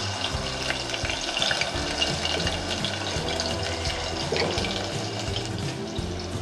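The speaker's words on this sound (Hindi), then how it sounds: "अब इसी तेल में डालेंगे हम 2 चम्मच भर के अदरक लहसुन का पेस्ट" Ginger garlic paste dropped into hot oil for a shahi chicken korma, frying with a loud, continuous bubbling sizzle and watery crackle close by, steady throughout with no talking.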